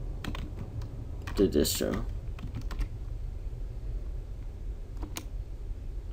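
Keys clack on a computer keyboard as a Linux terminal command is typed, in quick bursts of taps under a steady background hiss, with someone speaking briefly.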